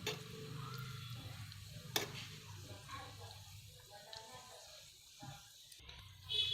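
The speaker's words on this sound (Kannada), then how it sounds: "ಈಗ ಗೋಡಂಬಿನ ಹುರಿತಾ ಇದ್ದೀನಿ. ಇದಕ್ಕೆ ನಾನು ದ್ರಾಕ್ಷಿನ ಹಾಕ್ಕೊಳ್ತಾ ಇದ್ದೀನಿ." Cashews and raisins fry in a hot pan, giving a steady low sizzle with soft stirring scrapes and a sharp clack near two seconds.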